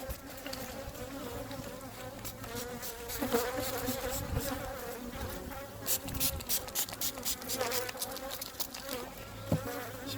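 Dense, steady buzzing of many bees close by at an open hive with brood, pollen and honey, a continuous droning hum with no voices.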